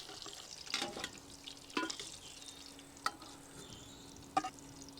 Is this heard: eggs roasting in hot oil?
yes